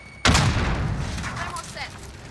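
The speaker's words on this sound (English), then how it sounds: "Throwing grenade!" A grenade blast and gunfire in Call of Duty Modern Warfare: one sharp, loud explosion hits suddenly, then a rolling rumble and scattered shots trail off over two seconds.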